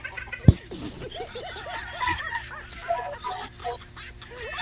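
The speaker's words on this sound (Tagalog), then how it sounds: "Maingay yung manok." Chickens cluck and squawk indoors nearby in short irregular calls, with a sharp knock early on and a fan-like hum underneath.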